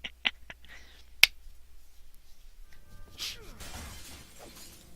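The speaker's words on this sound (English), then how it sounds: "Oh, that sounded like glass breaking." Glass shatters in the fantasy role-playing game Neverwinter Nights 2 as one sharp, bright crash, followed by quieter game clatter and movement, faint overall.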